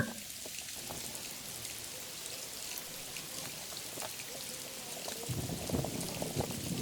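Steady rain pours down near a bamboo grove on a country road with an ox cart, a dense continuous patter of drops that swells a little louder toward the end.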